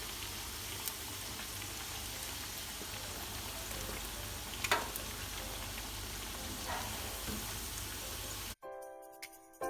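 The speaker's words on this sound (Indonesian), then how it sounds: "digoreng sampai matang" Tempe fritters (bakwan) frying in oil, a steady crackling sizzle with a few brief louder pops, cutting off abruptly near the end, no talking.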